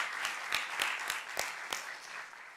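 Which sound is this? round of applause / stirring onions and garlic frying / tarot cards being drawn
round of applause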